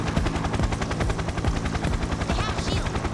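Helicopter in the Payday 2 video game, a loud steady rotor chop that pulses rapidly throughout, mixed with gunfire-like bursts and game noise, with no speech heard.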